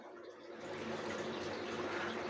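Running water splashes and gurgles as an aquarium filter sponge is rinsed, a steady faint wash that swells slightly and stays even throughout.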